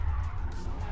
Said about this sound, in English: It's tires get hot, and then they really start spinning